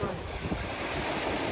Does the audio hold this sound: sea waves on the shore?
yes